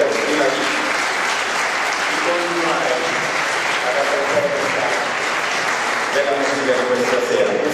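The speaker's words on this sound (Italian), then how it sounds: "Direi di fare un applauso al professore." A concert audience at a Christmas concert gives a professor steady, sustained applause, a dense wash of clapping that holds evenly throughout.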